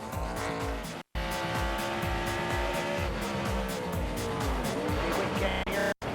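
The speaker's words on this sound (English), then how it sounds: "he finds out where the limit is on that wheel hop getting into turn 10" A NASCAR Cup stock car at Watkins Glen hops its wheels under heavy braking into turn 10, its loud engine roaring and stuttering in rapid juddering pulses, heard close and continuous with brief cuts.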